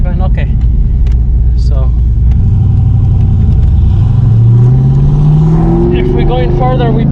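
A 1994–95 Ford Mustang 5.0-liter V8, just fitted with a new distributor, idles with a steady rumble, then revs up in a rising sweep near the end while people talk over it inside the car.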